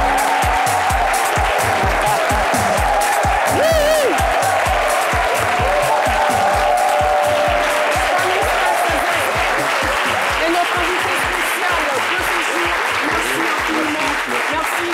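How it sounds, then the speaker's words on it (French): A studio audience on a French-language midday TV talk show gives loud, sustained applause to welcome guest Stanislas Zezé. The dense clapping runs unbroken from start to finish, with a voice briefly heard over it. "Merci d'applaudir très fort Stanislas Zezé."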